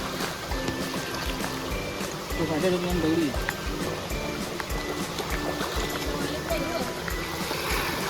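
Stream water flowing at a crab-fishing spot, a steady gurgling wash in the background while someone talks over it.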